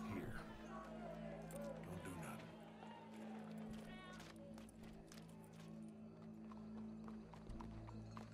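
Horse hooves pound rapidly and continuously in the video game Red Dead Redemption 2, with a horse neighing near the start, loud and close over a low rumble.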